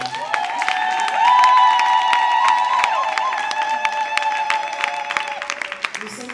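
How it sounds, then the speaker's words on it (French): An audience at a stage show in Kinshasa claps and cheers together, a steady loud burst of applause lasting several seconds with some shouts rising over it, tapering slightly at the end. "Est-ce que vous pouvez applaudir pour vous?"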